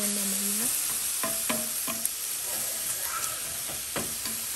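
Beef sizzles and browns in a frying pan, a steady close hiss under which a few faint spoon scrapes and stirring taps are heard.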